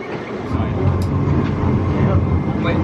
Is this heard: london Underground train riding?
yes